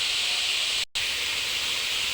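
Steady, bright sizzling hiss of bitter melon (ampalaya) and tomato sautéing in a hot pan for a dish with egg, continuous and close with a brief dropout midway and no talking.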